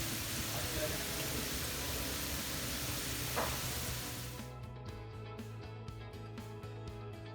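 Food sears in a Zojirushi Gourmet electric skillet, giving a steady, loud sizzle that thins out partway through into a quieter hiss with faint clicks.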